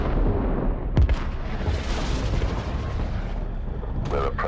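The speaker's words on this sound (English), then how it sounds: "Detonating." A detonation in an animated scene, a heavy booming blast with a sharp crack at the start, followed by a long rumbling roar and debris-like crackle that fades toward the end.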